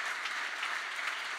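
Audience at the Biomimexpo 2024 event claps in a short, even burst of applause, soft and somewhat distant, with no voices over it.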